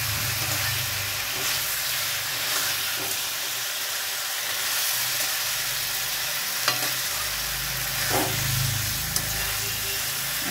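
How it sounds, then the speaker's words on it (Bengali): A whole bhola fish with spices being stir-fried in a pan for curry, a loud continuous hissing sizzle with occasional stirring scrapes and clinks, no voices. "আমি একটু মাংস কষানোর মতো করে একটু কষিয়ে নিচ্ছি"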